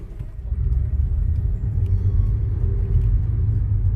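Naturally aspirated 1.4 litre four-cylinder car engine driving along suburban streets, a steady low rumble with mild swells as it pulls, close inside the car with no talking.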